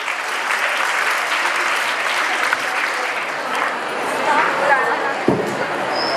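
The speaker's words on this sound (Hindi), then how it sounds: "इनके लिए जोरदार तालियां बजाएं" Audience at a school investiture and award ceremony claps heartily, a continuous wash of applause with faint voices underneath and a brief thump near the end.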